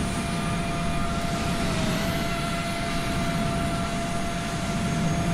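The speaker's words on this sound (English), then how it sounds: "we got a United 777 taxiing" Steady, loud jet airliner engine roar and whine, with tonal hums throughout, as a United 777 taxis in a flight simulator game; no voices.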